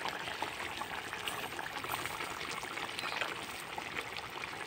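Ground garam masala mixed with water is poured into a pot of chicken and spinach, giving a soft, steady liquid stream and trickle with faint bubbling throughout.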